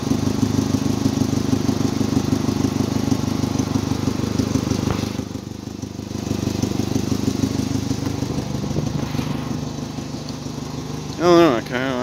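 A 1994 Ford Ranger XLT's 2.3-liter four-cylinder engine idles steadily and evenly at close range for most of the clip, with a brief louder blip near the end.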